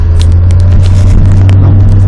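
A 1980s petrol car engine running loud and close, a steady low drone with faint crackling on top, held at an even level throughout.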